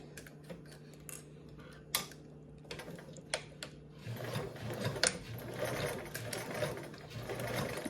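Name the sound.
sewing machine stitching a 3/8 inch seam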